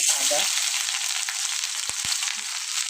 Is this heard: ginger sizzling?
yes